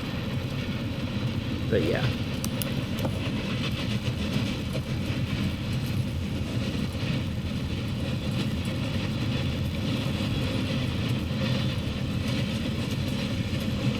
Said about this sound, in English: we actually experienced a train.